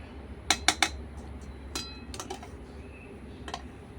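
A metal utensil scraping and clinking in a pan of hot coconut and sugar mixture being stirred for sweets on a clay stove, with a quick cluster of three bright clinks followed by a few softer, scattered taps.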